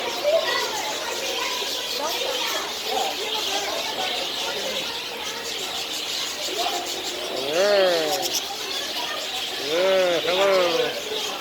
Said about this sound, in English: I got a pet bird.